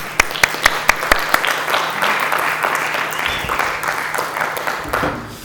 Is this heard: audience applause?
yes